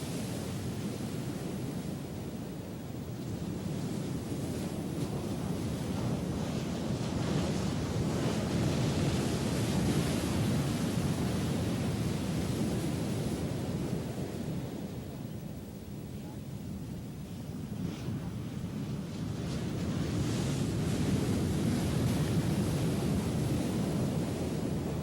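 Ocean waves break continuously at a surf spot under a southwest wind, a broad, close roar of surf mixed with wind buffeting on the microphone, swelling and easing in long surges.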